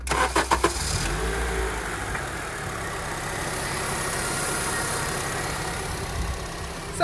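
A car that has been in a bad accident and had a wiring fault repaired cranks briefly with a few rapid starter bursts, catches, and settles into a steady, close idle with no talk.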